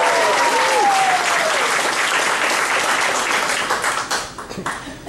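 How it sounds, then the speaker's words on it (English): An indoor audience at a humanist talk breaks into sustained applause, dense clapping close by that thins out near the end. "applause"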